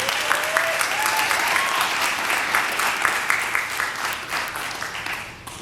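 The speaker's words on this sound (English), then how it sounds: "Let's clap for those poets." An audience at a poetry slam show applauds and cheers for the poets, a dense steady wash of clapping from a sizable crowd with a few whoops rising over it, holding strong before tailing off at the end.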